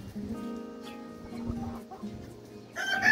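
Close hens clucking softly in a backyard flock with Leghorn and crested chickens, low drawn-out murmurs rising into a louder squawk at the end.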